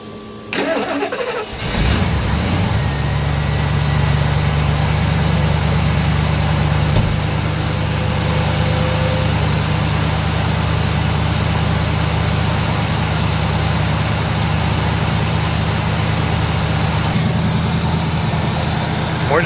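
Lincoln car engine starting and then idling steadily with a low, even hum during a DIY coolant flush, with a hose running into the radiator; the motor runs close and continuous with no talk.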